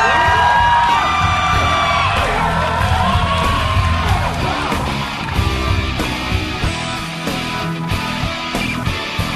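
Concert audience at an education-donation concert at KINTEX in Ilsan, loud and sustained yells, whoops and cheering from a large crowd with music continuing underneath throughout.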